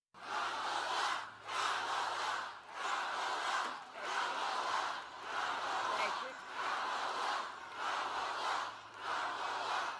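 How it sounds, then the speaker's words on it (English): Rally crowd chanting Kamala, a two-beat chant shouted in regular rhythmic bursts about every second and a half, loud and massed, repeating throughout with a faint hum beneath. "you're going to hear the crowd chanting, Kamala, Kamala."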